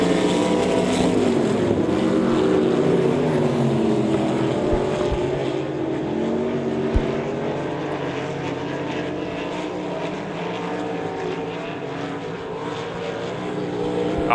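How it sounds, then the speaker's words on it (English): Non-wing ASCS Elite sprint cars roar through a heat race at Devil's Bowl Speedway, a steady, loud engine drone from a spread-out field with shifting pitch as cars circulate, no talk over it. "Field pretty spaced out here in heat race number 2 for the ASCS Elite non-wing sprints"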